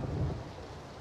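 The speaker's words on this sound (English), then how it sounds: "I love the rain." Steady rain falls in the battle royale game PUBG, a dense continuous wash of droplets with a low rumbling undertone, loud and even throughout with no talking.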